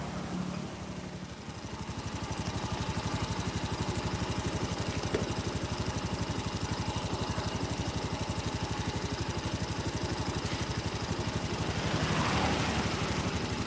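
A motorcycle engine idles close by with a steady, continuous mechanical drone and a fine rapid pulsing, the running slightly uneven and unstable, holding at a fairly constant level throughout.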